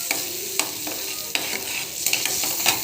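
Fenugreek leaves fry in hot oil with a loud, continuous sizzle, punctuated by several sharp scrapes and clacks of a stirring spoon against the pan.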